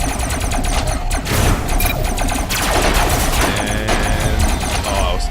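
Robot combat in the video game Robocraft, with dense, loud overlapping bursts of gunfire, crashes and clattering effects continuing without pause over a steady humming bed.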